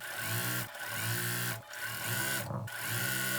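A sewing machine chain-pieces quilt block pieces for a potato chip block, its motor whirring steadily in close, loud runs broken by three brief pauses.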